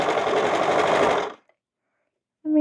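A sewing machine stitches a cardigan in one steady, close motor run of just over a second, then stops into silence before a brief restart at the end.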